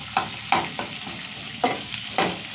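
Peanuts, curry leaves and coriander fry in hot oil for poha chivda, a close sizzle broken by five or six scraping stirs of a spoon against the pan, with no talk.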